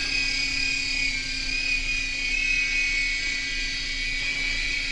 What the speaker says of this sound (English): Now this is a really slow helicopter for an RC helicopter